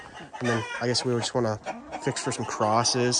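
Roosters and chickens cluck in the background on a farm among purebred birds kept separately, fairly faint and mostly under a person talking close by.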